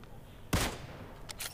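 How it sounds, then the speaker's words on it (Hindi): A Kar98 bolt-action rifle fires in the mobile battle royale game New State: one sharp, loud shot rings out, followed by a couple of fainter distant cracks. "इस बंदे को मैं Kar 98 से मार रहा हूँ"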